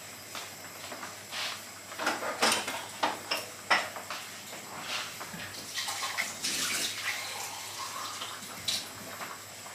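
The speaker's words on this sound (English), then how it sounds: "so I'm going to pour some water on that." Water splashes and trickles into a pot of boiling rice on a kitchen stove, with irregular bursts of pouring and light clatter, fairly quiet and close, no talking.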